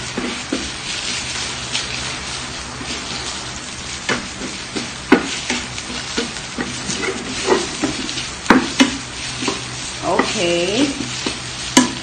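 Food sizzles loudly in a hot pan during Cambodian cooking, a constant close hiss broken by scraping stirs and clinks of a utensil, with a brief spoken word.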